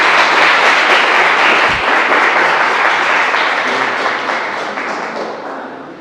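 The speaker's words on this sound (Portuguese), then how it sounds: "Uma salva de palmas pro Mateus." A church congregation gives a pastor's guest a warm round of applause, dense and steady clapping that fills the room and gradually fades toward the end.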